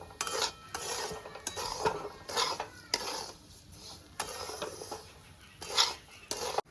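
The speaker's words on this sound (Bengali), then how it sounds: "এবার ভালো করে একটু এর সাথে তেলের সাথে সুজিটাকে মিলিয়ে নেব" Semolina and oil are stirred in a pan for rava upma, a spoon scraping and swishing in repeated strokes with light clinks against the metal, fairly close and unaccompanied by talk.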